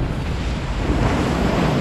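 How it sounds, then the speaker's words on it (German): A log flume boat at Kernies Familienpark in Kalkar rushes through water as a wave washes over it, giving a steady, loud, rushing wash of spray and splashing with wind buffeting the microphone. "Hast du gesehen, was da für eine Welle von hinten nach vorne kam?"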